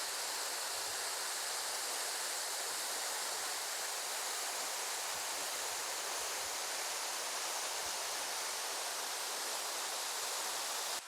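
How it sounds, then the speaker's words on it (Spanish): A waterfall about 12 metres high in the Tucabaca protected area near Chochís, Bolivia, roars as a steady, dense rush of falling water, loud and constant with no voices. "Y miren lo impresionante que es esta cascada"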